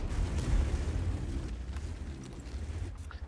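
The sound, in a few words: tank cannon shot in a tank video game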